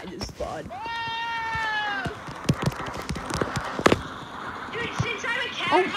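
A cartoonish cat meow from a Roblox game, drawn out for about a second, followed by scattered thumps and game clatter, with a player's voice faintly underneath.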